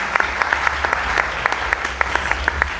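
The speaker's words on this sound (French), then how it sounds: "On peut l'acclamer également." Audience clapping for a person called forward at a church gathering, a lively steady applause with sharp individual claps, close and loud.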